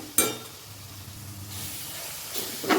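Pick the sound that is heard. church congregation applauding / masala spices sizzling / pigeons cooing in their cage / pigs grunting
masala spices sizzling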